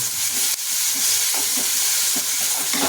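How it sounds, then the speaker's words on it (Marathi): Garlic, ginger and cumin paste fries with onion paste for spinach paneer, a loud, dense, continuous sizzle close by, with faint soft stirring scrapes underneath. "आता आपण थोडं लसण अद्रक आणि जिऱ्याचा पेस्ट टाकूया याला आधी कांद्यासोबत चांगलं शिजू द्यायचं आहे"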